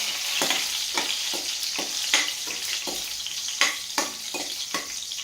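Green chilies sizzle and spit in hot oil with golden-fried garlic, a continuous bright frying hiss broken by repeated stirring scrapes and crackles, close up with no talking.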